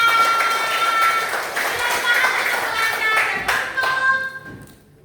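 Children clapping their hands together at a gathering for orphaned children in Indonesia, brisk, loud and close, with voices and singing mixed in before the sound thins out at the end.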